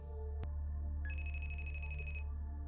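A telephone rings with an incoming call at night in a film scene about a missing daughter, sounding as a single electronic ringing burst of about a second over a low steady background hum.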